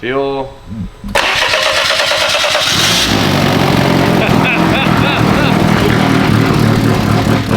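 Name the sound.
BMW engine starting in a Volkswagen engine swap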